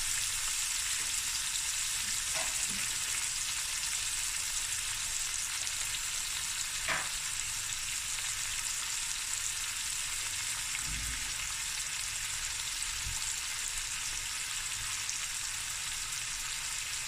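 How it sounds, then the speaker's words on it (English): Pepper and fresh curry leaves fry in a pan for a lamb shank dish, giving a steady, dense sizzle throughout with a few faint clicks and no talking. "And I've got some fresh curry leaves going in. And now this is just going to fry until it's nice and golden brown."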